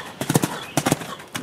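Hoofbeats in quick grouped bursts, a rhythmic clip-clop of a horse performing a flying change at a canter on firm ground, close by.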